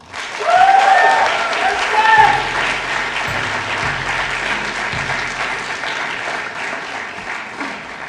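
Audience applause at an awards ceremony for the night's winners, a loud burst that settles into steady clapping, with a low hum underneath and a voice partly heard through it.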